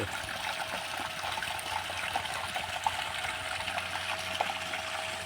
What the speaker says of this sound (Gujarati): પાણી તો સારું આવે છે ભાઈ.